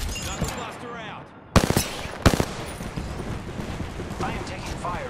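Video game gunfire crackles in a few loud, sharp bursts amid a busy mix of game sounds, with some quieter shots and effects between them.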